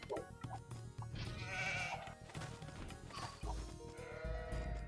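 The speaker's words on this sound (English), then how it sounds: "Ah, here's my sheep." Sheep in a strategy video game set in the reign of Andronikos III bleat repeatedly over busy game sounds and music, fairly close.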